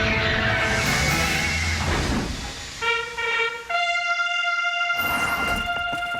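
A cartoon train pulls in, rumbling and hissing before a sustained multi-tone horn blows twice near the end, loud and close with no talk.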